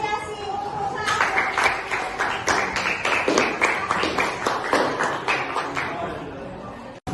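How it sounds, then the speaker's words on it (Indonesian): A school class claps together in a steady, rhythmic pattern for several seconds. The clapping is loud and close, with some chatter mixed in. "Beri tepuk."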